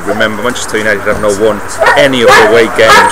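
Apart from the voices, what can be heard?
dog barking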